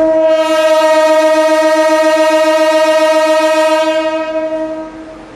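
A train horn blares loud and sustained for several seconds as a train approaches a level crossing where a motorcycle forces its way across, a rich steady tone that fades out at the end.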